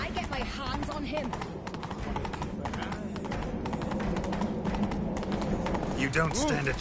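Horse hooves galloping in The Witcher 3 video game: a steady rapid clatter of hoofbeats running throughout, partly under loud character voices and game sound.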